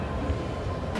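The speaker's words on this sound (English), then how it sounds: "we're in another train headed for Khan" Inside a moving passenger train in India, a low steady rumble and rattle of the carriage fills the background evenly, with no distinct clatter or horn.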